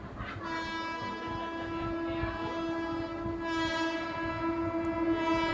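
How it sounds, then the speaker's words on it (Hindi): A train sounds a long sustained horn at a railway station in Ambala, steady and fairly loud over a rumbling background of rail noise and station bustle, with no clear talking. "और ये रहा हमारा रेलवे स्टेशन"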